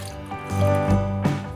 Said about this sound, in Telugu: ఇంకా కొంచెం నీళ్ళు పోసుకున్నాను